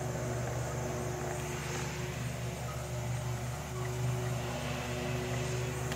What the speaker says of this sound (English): you just wake up to lawnmowers every single morning